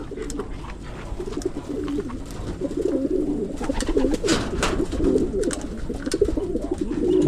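Pigeons cooing at a pigeon loft, repeated throaty coos from several birds close by, rising and overlapping, with scattered light knocks and no talk.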